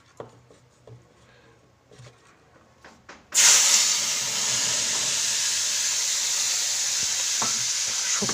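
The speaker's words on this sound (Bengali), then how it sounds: "শুকনো শুকনো করে ভাজা ভাজা করে নিয়েছি।" Pointed gourd sizzles steadily as it is dry-fried in a pan, a loud continuous hiss that bursts in after a few seconds of quiet kitchen clatter and holds to the end.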